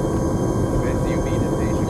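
A helicopter in the video game Arma 3 gives off a steady engine and rotor drone, loud and continuous throughout.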